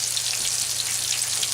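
Chicken fries in a fry pan with a steady, dense sizzle and crackle of hot oil, close and continuous throughout with no voices.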